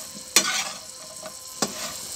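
Plantain dry fry sizzling in a pan as it is stirred, a steady soft frying hiss broken by two sharp scraping stirs, close and fairly quiet with no talking.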